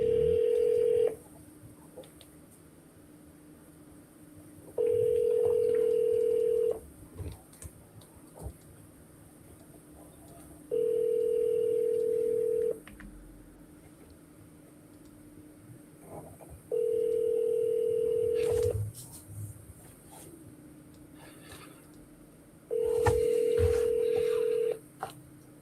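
Outgoing phone call heard through a handset: a few dial-tone-like beeps, then a repeating ringback tone in steady two-second bursts separated by about four-second gaps, fairly quiet with faint background hiss.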